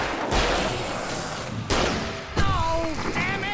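Gunfire in the Alan Wake video game, a few sharp broadband shots cracking out over a dense, noisy game mix, with tonal effects and a brief voice-like sound near the end.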